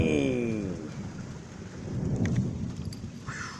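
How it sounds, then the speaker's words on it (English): Loud, powerful thunder rolls through a severe thunderstorm with steady rain, a deep rumble swelling in the middle and fading toward the end. "That is some loud, powerful thunder there."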